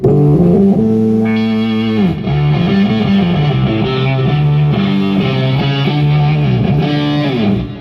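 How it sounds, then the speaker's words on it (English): Thick, distorted electric guitar with a buzzy octave-doubled fuzz tone, playing sustained chords and riffs, loud and alone. "I can also dial in kind of more guitar-like octafuzz tones and stuff like this."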